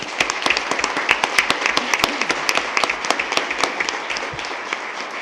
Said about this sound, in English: please, round of applause for Lulu